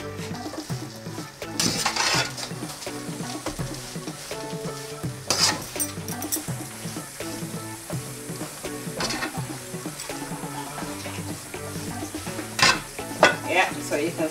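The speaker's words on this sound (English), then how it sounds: "we're gonna add our calamari and prawns" Calamari and prawns frying with rice in a paella pan, a busy close sizzle with frequent stirring clatter and utensil knocks against metal, no talk.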